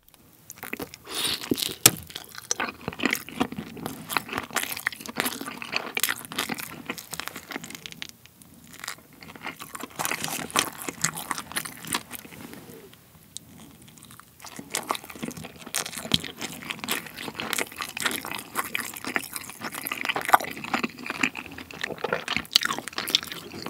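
Chewing grilled mullet with lemon in a close-miked eating session, with continuous wet, crunchy mastication and small squishes running steadily throughout, loud and intimate, with no talking.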